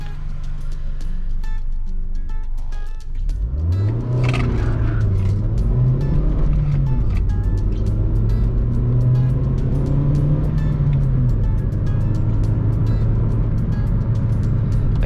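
A 2010 Kia Soul 1.6 petrol engine hums steadily while driving, with a low drone that rises slightly as it accelerates, accompanied by road noise throughout.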